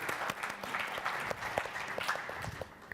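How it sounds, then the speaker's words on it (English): A conference audience at a youth forum claps in dense, steady applause that fills the whole moment, close and loud, with no voices over it. "you could give them an applause"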